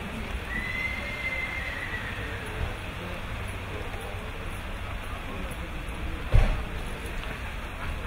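A horse at a French show-jumping sale, a whinny rising early, with the animal moving at a trot and a louder thump near the end over steady outdoor noise and murmuring voices.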